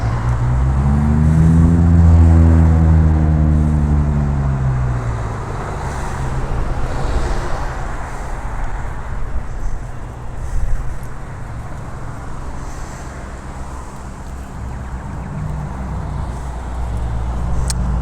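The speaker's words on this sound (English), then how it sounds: "Sorry, the car going past." A car passes on a quiet back road, its engine rising and falling as it goes by close, loud at first and then fading into steady road and wind noise.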